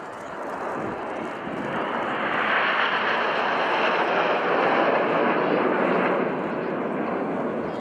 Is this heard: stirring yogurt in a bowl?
no